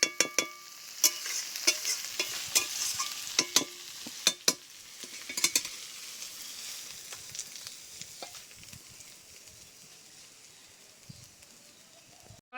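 Fish curry with cumin paste stirred in a wok, a run of sharp metallic spatula clacks and scrapes over a soft sizzle, busy at first and then fading to sparse taps and quiet frying.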